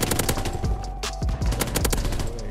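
An M1941 Jawbreaker firing in Call of Duty WW2: loud, rapid bursts of close automatic gunfire with short gaps between the volleys.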